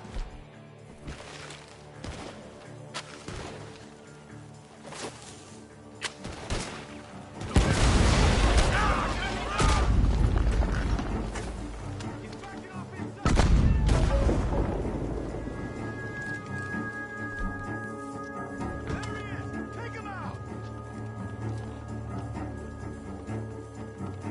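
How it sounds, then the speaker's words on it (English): Gunfire and crashing booms from a barn in Red Dead Redemption 2, with loud bursts of shots and impacts around the middle, over a busy game soundscape with hoofbeats and ambient noise. "Gunshots are coming from that barn!"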